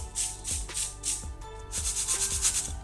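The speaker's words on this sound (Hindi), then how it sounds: "तो अब मैं आपको इसका क्रंच सुनाती हूँ," Repeated crunching and rustling as crisp fried potatoes for aloo chaat are pressed or bitten, coming in rhythmic bursts close to the microphone.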